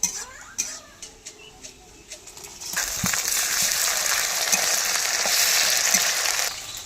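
Garlic and ginger paste hits hot oil over fried onions and bursts into loud, steady sizzling after a few quiet clinks and scrapes, continuing strongly to the end.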